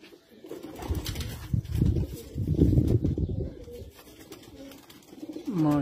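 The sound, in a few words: Teddy flying pigeon cooing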